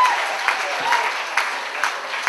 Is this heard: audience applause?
yes